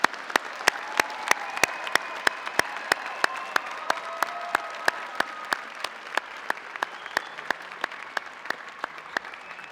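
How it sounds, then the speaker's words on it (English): Commencement crowd applauding graduates, a soft wash of clapping under a sharp, regular clicking tick repeating roughly every third of a second throughout. "join me in one more round of applause for these amazing graduates today"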